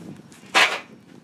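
A single Mossberg 935 shotgun shot with a Remington 3.5 inch Nitro Turkey shell at an outdoor range, one sharp, loud crack with a short decay, no talking.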